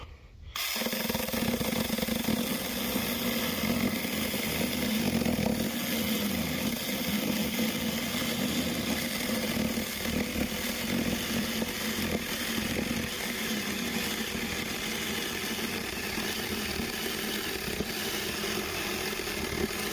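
A small SAKER mini chainsaw starts up and runs steadily for the whole stretch, its loud buzzing engine cutting continuously through a 2.5-inch-thick curly maple slab.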